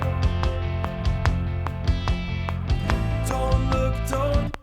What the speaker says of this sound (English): So the metronome itself, as it's set up right now, sounds like this.